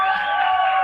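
Crowd cheering in front of a fair stage as a celebrity guest is introduced: a short, loud, steady roar of many voices with no gaps.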